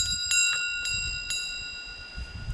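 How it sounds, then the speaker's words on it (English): A small bell rings several times in quick, uneven strikes as children play with it, bright metallic tones ringing out over a quiet room with low background rumble. "they can ring the bell"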